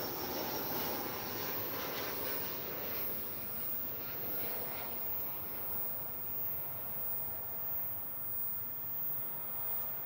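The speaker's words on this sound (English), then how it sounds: "Here we have an American Airlines, looks like to me, an Airbus A319" An American Airlines Airbus A319 jet flies over DFW Airport, heard as a steady, broad roar that holds at moderate loudness and fades gently over about ten seconds.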